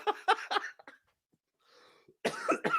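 A man coughs several times in a quick burst, close and loud, then a short breathy pause and another cluster of harsh coughs.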